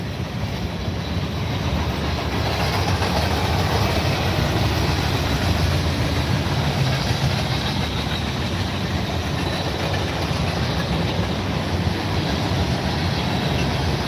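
A CSX freight train hauling heavy-duty flat cars rolls steadily past nearby, a continuous broad rumble with faint wheel clatter holding level throughout and no voices over it.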